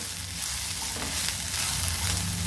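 Boiled white chickpea sundal with salt being stirred in a pan, a continuous close sizzle and soft scraping under a low steady background hum.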